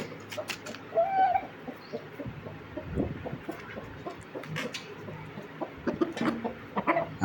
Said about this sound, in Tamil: இப்போது ஒரு கொக்கரக்கோன்னு ஒரு லைட்டாக ஒரு கேருவார்